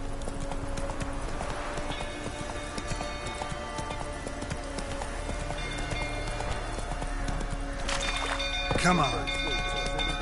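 Roach, a horse in The Witcher 3 video game, trots with steady clip-clop hoofbeats over a constant background ambience, and a short burst of whinnying comes near the end while someone speaks briefly.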